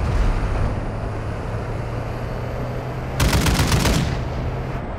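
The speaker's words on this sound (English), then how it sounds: "Stop shooting!" A short rapid burst of automatic gunfire in Call of Duty, rattling for about a second over a steady engine-like drone of background noise.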